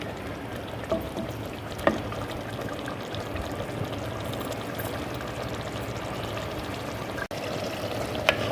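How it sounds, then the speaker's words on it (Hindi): Chopped tomatoes and green chilies fry in a cooking pot (handi) for a mince and peas dish, giving a steady close sizzle and bubbling with a few small clinks of stirring. "अब मैं इसको अच्छी तरह भून लूँगी।"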